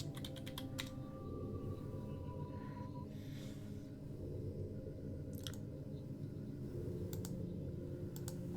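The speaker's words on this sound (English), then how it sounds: "I gotta type that." Faint clicks of typing on a computer keyboard come in short scattered bursts against a low humming background, with no voices.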